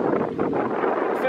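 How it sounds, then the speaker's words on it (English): Steady gusty wind blowing across the top of a river in the New Zealand back country buffets the microphone, a continuous rough rumble with a faint voice underneath. "Good spotting conditions apart from the big gusts of wind that are coming across the top of the water."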